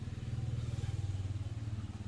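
A motorbike or scooter engine idles close by with a fast, even putter that pulses steadily under quiet surroundings, low in level and brief.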